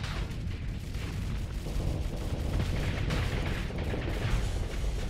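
Weapons fire in the space combat video game StarSector, with a dense, continuous barrage of booming impacts and rumbling blasts filling the whole clip at a moderate, steady loudness.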